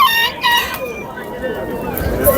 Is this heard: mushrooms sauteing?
no